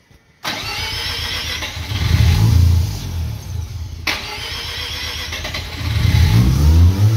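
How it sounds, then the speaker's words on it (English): A rotary engine cranks over and catches, then runs with a rough, high idle and a couple of revving swells, loud and close with no talking. "The engine's running."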